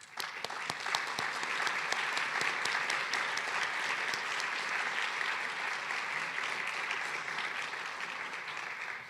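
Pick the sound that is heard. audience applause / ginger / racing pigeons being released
audience applause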